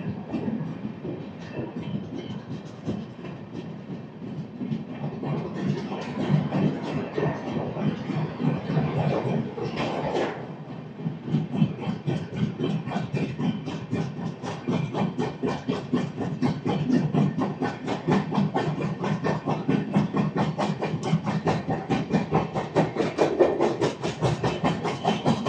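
A special train on a diverted Chennai Egmore to Visakhapatnam run pulls out of Anakapalli station, its wheels beating a steady, quickening clickety-clack on the rails under a continuous rumble and hiss of the moving carriages.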